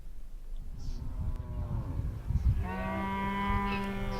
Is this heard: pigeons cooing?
no